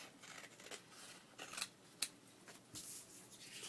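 Scissors snipping paper into journal tags, a few quiet, close cuts and rustles with a sharper snip near the middle, no talk.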